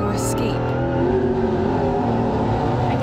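Race cars on a racetrack, a steady loud engine roar with rising and falling pitch as the cars drive past, continuous throughout, with a brief high whine near the start.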